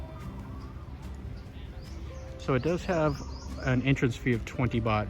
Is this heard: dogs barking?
no